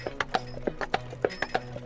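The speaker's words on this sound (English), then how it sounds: "even the clippity-clop ride up here with the horses, we came up on a taxi, horse-drawn taxi" Hooves of a horse pulling a horse-drawn taxi on Mackinac Island clip-clop in a steady, brisk rhythm, close and crisp, with faint background noise.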